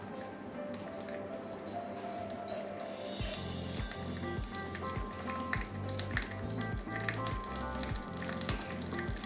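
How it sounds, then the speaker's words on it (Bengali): Oil heating in a pan for a Bengali taro curry, crackling in a steady sizzle that becomes denser and more rhythmic midway, close and fairly quiet, with no voices. "তেলটা একটু গরম হোক।"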